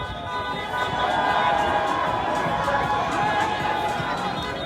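A large anti-curfew protest crowd in the streets of Old Montreal at night gives a steady, loud wash of mingled chatter and distant shouting. The noise continues throughout with no single voice standing out.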